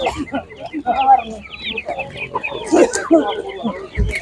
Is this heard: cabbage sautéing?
no